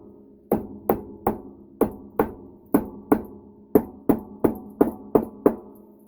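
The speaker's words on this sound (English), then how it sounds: "hammer." Steady hammer strikes on a crafting project, about fifteen sharp blows in an even rhythm with short pauses, close and fairly loud with no talking.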